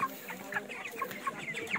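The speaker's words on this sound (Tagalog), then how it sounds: "Ayan yung aming mga manok." Several broiler chickens cluck in short, overlapping bursts close by, a busy flock on a broiler farm chattering continuously with no voices over it.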